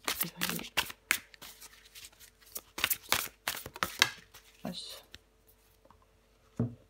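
Tarot cards shuffled and drawn up close, with quick riffling flutters and soft card slaps in irregular bursts, joined by quiet, whispery talk.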